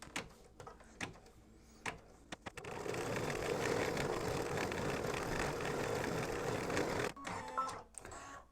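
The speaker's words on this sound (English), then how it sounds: "now the machine has jumped over to the right hand side and it's going to put in the tick marks" An embroidery machine stitching a continuous border design onto a pillowcase runs steadily for several seconds, a dense, even mechanical whirr, framed by brief clicks and taps before and after the run.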